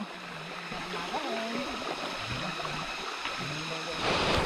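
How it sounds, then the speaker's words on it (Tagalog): Waterfall at Burong Falls on Mt. Balagbag, a steady rushing splash of water heard close by, with people talking over it throughout. "Welcome to Burong Falls."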